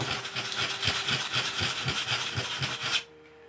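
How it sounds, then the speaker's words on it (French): Sandpaper worked back and forth over a resin part from a Rafale B/C model kit, giving a steady, rapid rasping rhythm of short strokes, close and fairly loud, that stops abruptly after about three seconds. "Alors ça se ponce très facilement"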